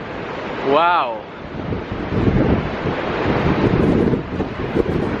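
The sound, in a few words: huge ocean waves breaking at a Barcelona beach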